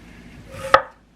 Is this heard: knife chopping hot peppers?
yes